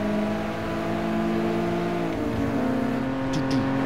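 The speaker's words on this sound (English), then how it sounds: "Hear that gear change?" A race car in GT Sport drives on with a sustained engine drone and a quick gear change toward the end, the pitch dropping as the next gear engages, loud and close with no talk.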